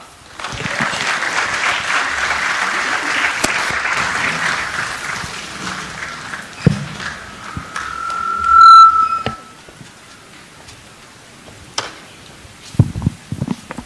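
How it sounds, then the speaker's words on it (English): An audience at a youth summit claps warmly in a dense burst that fades out over several seconds, followed by a sharp whistle, scattered thumps and a few later claps. "As I come down, can you give me also a warm clap?"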